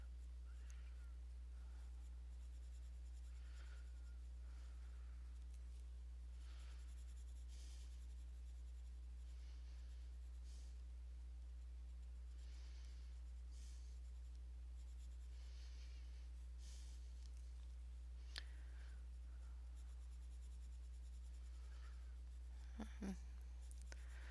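Caran d'Ache coloured pencils scratching on paper, very faint, soft irregular strokes with occasional sharper ticks beneath a steady low electrical hum.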